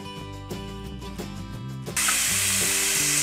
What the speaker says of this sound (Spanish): Vamos a dorar nuestra cebolla